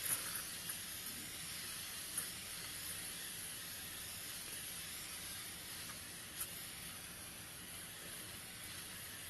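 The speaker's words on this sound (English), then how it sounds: "But it sprays a little different than that one" Makeup setting spray mists onto a face from a little further away than usual, giving a quiet, steady hiss that runs through the whole stretch at low volume, with no voices.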